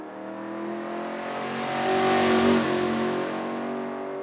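A Gulf Ford GT40 race car, chassis GT40P/1075, with a 7-liter V8 engine, drives past with a strong, tonal engine note that climbs to a peak mid-way and then holds steady, with no talking.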